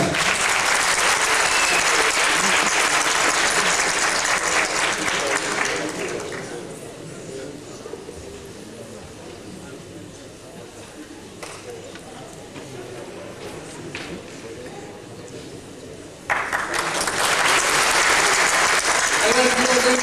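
Concert audience applauding at a Van folk song event, loud dense clapping that fades to a quieter patch mid-clip, then surges back to full strength near the end.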